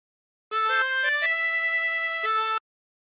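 A harmonica plays the first phrase of Roll the Old Chariot Along. Clear sustained reed notes shift pitch in a short melodic line of about four to five tones, played alone and close.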